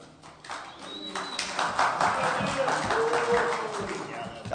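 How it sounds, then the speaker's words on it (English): Audience at an Amarillo city council special meeting cheering and clapping in a crowded room, a sustained burst of mixed applause and voices that swells and holds for several seconds. "Let's hear a little noise for Tim."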